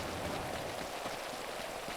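Rain falling in the video game GTA 5, a soft, quiet, even patter of drops on surfaces lasting a couple of seconds with no voices.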